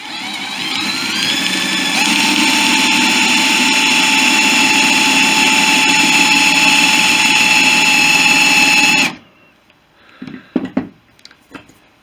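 A 6.2mm drill bores a slot through a guide block while working on centre cabane struts for a Fisher Youngster V aircraft: a steady, loud motor whine runs about nine seconds, then cuts off, followed by a few light handling clicks.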